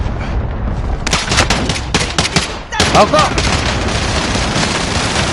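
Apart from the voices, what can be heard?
gunfire in a PS4 video game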